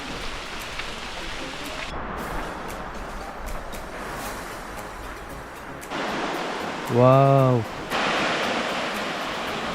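Heavy rain falls during a thunderstorm in Krabi, Thailand, as a steady, dense hiss that swells and eases, with one person giving a brief loud exclamation partway through.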